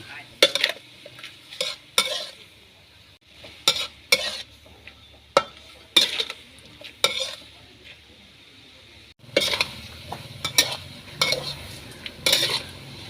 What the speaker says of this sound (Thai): กวนปลาไหลให้สุกก่อนนะครับ